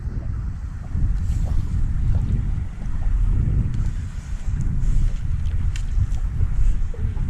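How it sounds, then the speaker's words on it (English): Steady outdoor wind during fly fishing with a floating line, a continuous low rushing and buffeting that swells and dips in gusts, close and fairly loud, with no speech. "So the wind is shifting again."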